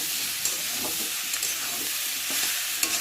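Fried soybean chunks being sautéed with potato and spices in a pan, a steady close sizzle with scattered scraping stirs throughout.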